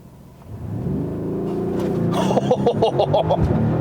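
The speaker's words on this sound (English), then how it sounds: "we're going to do one more little race start here" A 2018 Mercedes-AMG GLC 63 SUV launches from a race start, its engine rising from a low idle rumble into a loud, hard-revving surge with sharp, clearly audible gear shifts stepping the pitch up near the end.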